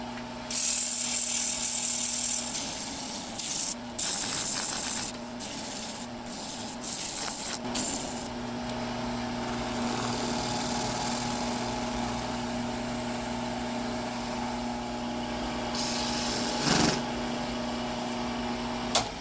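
A wooden bowl is polished while spinning, a close, loud rubbing and hissing friction sound that comes in short bursts at first, then settles into a steadier, softer rub with a hum beneath, with no talking.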